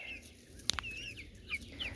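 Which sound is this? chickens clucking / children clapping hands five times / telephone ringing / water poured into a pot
chickens clucking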